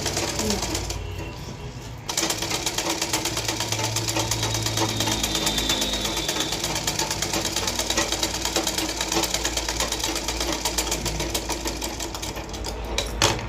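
A sewing machine stitches a blouse sleeve to the armhole in a steady, rapid, continuous whir after a brief pause near the start, running loud and close with no voices.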